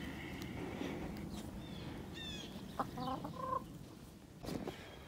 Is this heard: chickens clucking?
yes